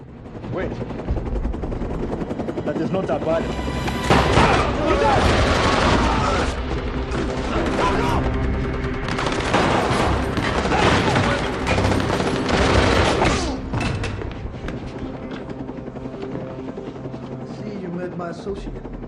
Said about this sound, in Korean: 총을 맞고 기절했던 경호 실장이 헬기 조종사를 쏘며 또 한 번 자우를 구해주게 되는데